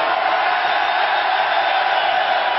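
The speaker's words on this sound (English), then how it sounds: "the noise kind of reverberating around here is astonishing" A loud darts crowd roars inside an Exeter arena at a 2017 Premier League Darts night, a dense, unbroken wall of cheering that holds steady from start to finish with no single voice standing out.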